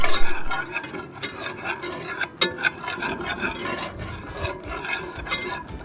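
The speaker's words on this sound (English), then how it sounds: "we are going to add in our 3 tablespoons of flour and then whisk it until the flour absorbs into the butter" Butter and flour are whisked together in a pot on a Blackstone griddle, making a steady scraping, rasping rhythm with occasional metallic clinks of the whisk against the pot, close and fairly loud with no voices.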